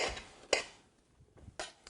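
A knife cuts fajita meat into strips on a board, a few sharp separate knocks and scrapes with quiet gaps between them, close by and without talk.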